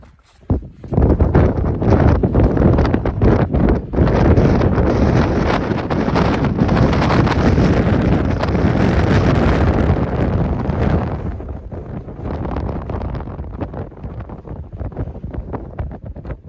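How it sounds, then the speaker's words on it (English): Strong wind on the mountain top of Red Screes buffets the microphone in loud, roaring, continuous gusts close up for most of the stretch, easing somewhat toward the end. "It's just mad windy."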